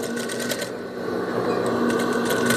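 A sewing machine stitches a seam joining a skirt's waistband, its needle clattering in quick rhythmic bursts, pausing briefly, then running again close up.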